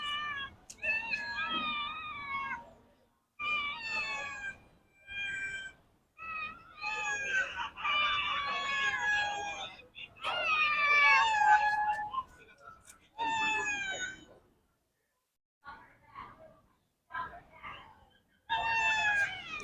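Two pet cats, a Persian and an Indian street cat, meow loudly and insistently up close, with long drawn-out cries coming in repeated bursts separated by short pauses.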